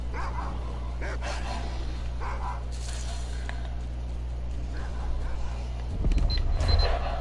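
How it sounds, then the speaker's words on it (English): Wild dogs bark and yip in the distance over a steady low rumble in the video game Stalker: Call of Pripyat, with a louder burst of barking near the end. "Those sound like wild dogs."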